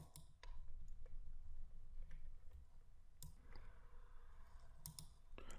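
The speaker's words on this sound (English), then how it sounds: "Click the line number and we are directed to the root of our problem." Sharp computer mouse clicks, a few scattered across the stretch, sounding close and fairly faint over a low background hum with no talking.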